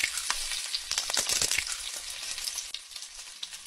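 Eggs frying in a pan give a close, steady sizzle with crackling pops and bursts of spitting, fairly quiet and heard alone.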